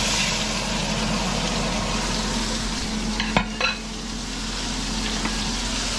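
Onions fry in a pan at home with a steady, close sizzle throughout, broken by a couple of brief clinks and scrapes of a utensil against the pan partway through, with no talking.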